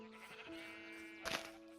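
A sheep in Minecraft gives a single short bleat after a quiet stretch with faint background tones; the bleat is clear but soft, with no speech.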